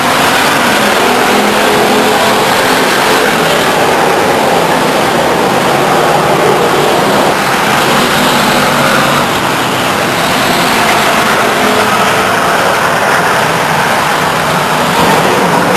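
Race cars lap Stockton 99 Speedway in a loud, continuous roar of engines, swelling and easing slightly as the pack passes, with no talk over it.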